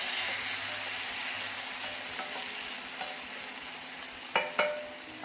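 Chopped onion and finely chopped tomato frying in a pan for a cauliflower and potato curry, a steady close sizzle with a few sharp stirring clinks near the end.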